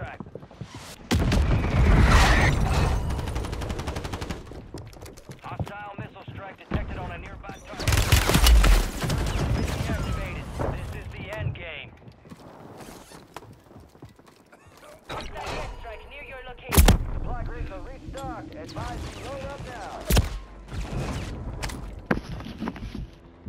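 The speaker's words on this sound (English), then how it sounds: "Nearby target marked for an enemy missile strike." Explosions and gunfire in a multiplayer shooter match burst out loud and close, with heavy blasts, rapid automatic fire and scattered single shots among quieter gaps, while a voice talks over the action.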